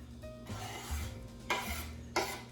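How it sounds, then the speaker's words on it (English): Italian parsley being stirred into stuffed-shell filling in a pan, with close scraping and swishing strokes that come in a few distinct bursts over a low background hum. "after you kind of stir it all together in the pan, you want to add that Italian parsley to it"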